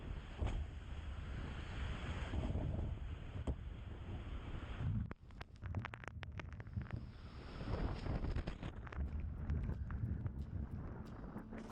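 Strong wind from an approaching tornado roars continuously as heavy, buffeting gusts against the microphone, with a brief lull midway and sharp crackling knocks mixed into the rumble.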